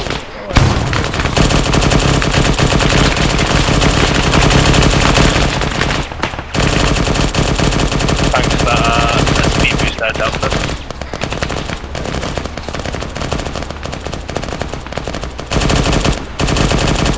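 Heavy, near-continuous automatic gunfire during a convoy firefight in ARMA 3, loud and close with only brief gaps, multiple weapons overlapping into a sustained barrage with voices shouting underneath.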